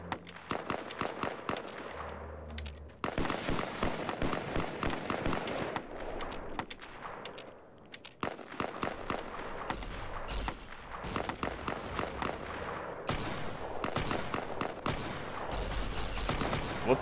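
Gunfire in the video game Fallout: New Vegas, with dense, rapid volleys of sharp shots and bursts crackling almost continuously, loud and close with brief pauses between barrages.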